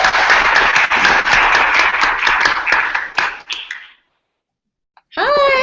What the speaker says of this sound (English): let's welcome them with a big applause.